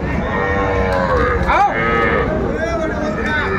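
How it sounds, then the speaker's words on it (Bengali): At a cattle market in Lakshmipur, a young calf gives a loud, drawn-out moo close by, its pitch sliding up and down, with other animals and crowd murmur faintly behind it. "বেশ সুন্দর সুন্দর বাছুর গরুগুলো কালেকশন করছে মেজবাউল ভাই"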